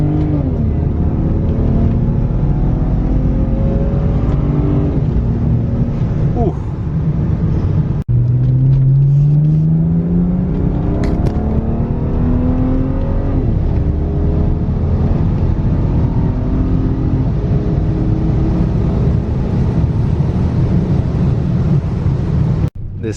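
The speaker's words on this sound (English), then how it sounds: "Second gear pull." Torquey car pulls hard in second gear on a road, the engine note rising loud and continuously with rising revs, a gear change and wind rumble.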